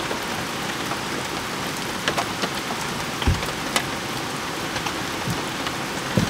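Heavy rain pouring at a valley campsite by a stream, a thick constant wash of noise punctuated by occasional louder drips and drops striking nearby surfaces, with no voices.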